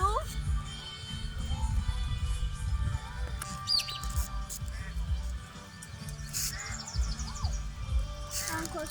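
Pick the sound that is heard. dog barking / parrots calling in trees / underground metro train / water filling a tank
parrots calling in trees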